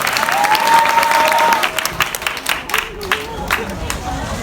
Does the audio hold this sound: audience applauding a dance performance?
yes